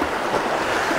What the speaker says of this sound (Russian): Все это на берегу моря.